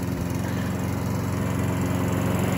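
A new lawn mower runs steadily on grass in a Costa Rica yard, its engine droning loud and continuous at close range with no one talking.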